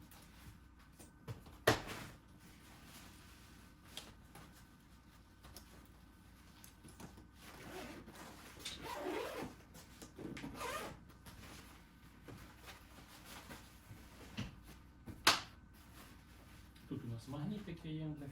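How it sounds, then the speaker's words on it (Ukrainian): Double zipper on a baby stroller cover being handled, brief zipping strokes and plastic rustles scattered between quiet stretches, close up with two sharp clicks and a voice talking near the end. "Чехол наліпки з подвійним замочком."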